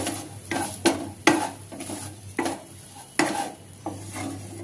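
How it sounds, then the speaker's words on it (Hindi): Spices being stirred into stuffed bitter gourd in a pan, with repeated scraping strokes of a spoon against the metal over a soft sizzle, heard up close and without speech. "अच्छे से अब चलाते हुए मिक्स कर लेंगे।"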